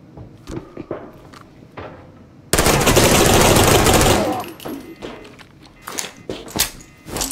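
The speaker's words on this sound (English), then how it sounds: "Is that you shooting?" Gunfire in the shooter game Arena Breakout Infinite with an MP5: scattered single shots, then a loud sustained burst of automatic fire for over a second, followed by more sharp shots and thuds at close range.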